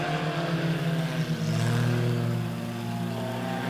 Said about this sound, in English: Two laps to go for your Sing Rental Hornets heat race number 2.